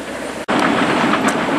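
A train rolls along a railroad track right beside a pay-lake fishing spot, with a loud, close, steady rumbling roar that drops out for an instant near the start and then carries on unbroken.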